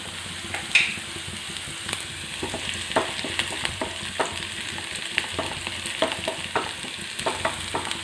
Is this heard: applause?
no